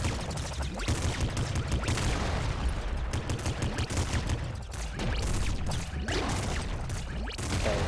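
Gunfire from the Nuclear Throne video game rattles in rapid, dense bursts, a near-continuous stream of loud shots and impacts with brief dips.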